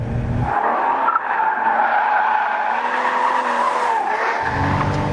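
A 2013 Porsche Boxster S slides through a corner on track, its tires squealing loudly and continuously for several seconds while the engine drones underneath, close and alone with no voices.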